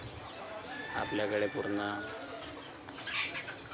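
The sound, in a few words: country chickens in their coop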